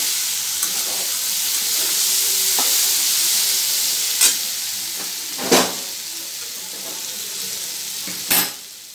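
A steady, loud sizzle of potatoes with salt and turmeric frying in a pan, with occasional sharp scrapes and clicks of a spatula stirring.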